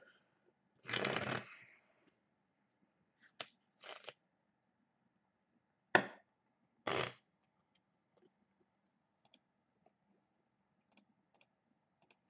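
A deck of Magic: The Gathering cards is shuffled in a few quick riffling bursts, close and fairly quiet, separated by pauses and small clicks of handling.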